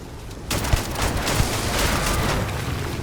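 Dense gunfire from a weapon in the sci-fi game Starfield, a loud continuous burst of rapid shots with sharp peaks, starting abruptly after a brief quiet moment and running steadily to the end.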